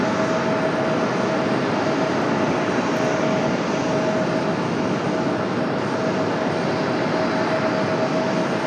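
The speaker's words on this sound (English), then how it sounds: "Got this E175 rolling in here" An Embraer E175 jet airliner rolls along at Raleigh-Durham International, its engines giving a steady, broad roar that holds at an even level throughout with a faint high whine on top, and no talking.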